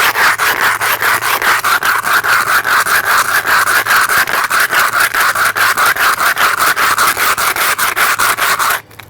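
A food can rubbed hard against concrete with a steady back-and-forth scraping, a loud continuous gritty rasp in quick regular strokes that stops abruptly at the end.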